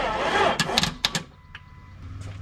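A Jeep XJ 4.0 engine cranks on a weak battery: a rough, strained churn that fades, followed by a few sharp clicks and clunks and then a low idle-like rumble.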